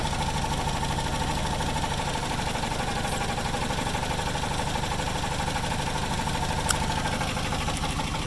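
A Suzuki Sidekick with a swapped 16-valve engine idles steadily and slightly roughly, with an EGR fault code and a valve that may be stuck slightly open; the close, continuous engine rumble holds throughout with a couple of faint clicks.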